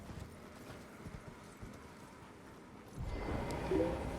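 Horse hooves in Elden Ring drum along in a quick clip-clop rhythm, low and fairly close, growing louder and busier toward the end with a faint snort or whinny-like tone near the close.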